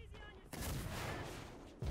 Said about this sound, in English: I love the new uh, effects, dude. For rockets, they look so good